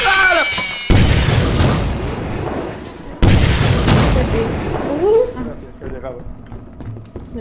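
Two loud booming rocket explosions in the video game Lethal Company erupt in quick succession, each followed by rumbling, with excited voices shouting over the chaos.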